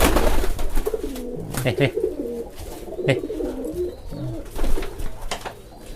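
Champion pigeons in a loft coo repeatedly in low, rolling calls close by, with a person briefly speaking over them.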